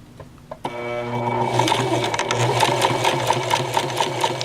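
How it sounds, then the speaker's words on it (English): A sewing machine stitches on its free arm along a skirt placket, starting after a brief pause and running steadily, a fast even motor whir with rhythmic needle clatter, close and prominent. "I'm free arm sewing right now because this little pretend skirt I made is way too narrow."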